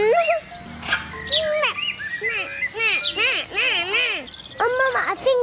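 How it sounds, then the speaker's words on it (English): Parrots at a zoo give a run of bright, rising and falling squawks and whistles, close and fairly loud, with a low background murmur. "parrots."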